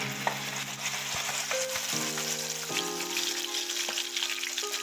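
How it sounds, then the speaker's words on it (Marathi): Ground raw masala paste sizzles in three to four spoons of hot oil in a pan, a soft continuous crackle with stirring scrapes, faint background tones, no voices. "आपण हा कच्चा मसाला याच्यामध्ये फ्राय करून घेणार आहे"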